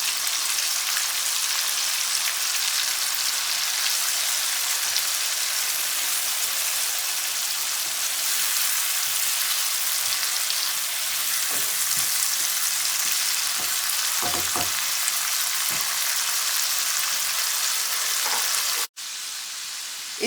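Ginger garlic paste sizzling and frying in a pan of hot oil while cooking bhindi masala, a steady dense crackle with a few soft stirring clicks, continuous and fairly loud, cutting off abruptly near the end.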